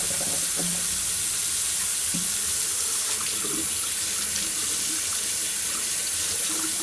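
Tap water runs steadily into a sink being filled to wash fresh wool fleece, a continuous close hiss and splash with faint knocks and no talk.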